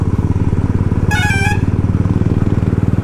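A Royal Enfield Classic 350 motorcycle with a short bottle silencer idles close by in a steady, loud, low thump, and a horn blares briefly partway through.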